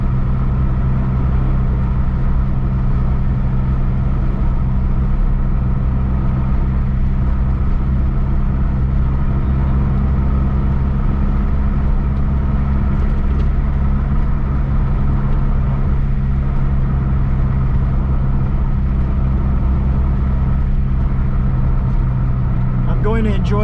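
Engine of a 1988 Mazda 323 with a newly replaced head gasket running while driving, a steady loud low hum and road rumble from inside the car, continuous with little change, with a voice talking over it.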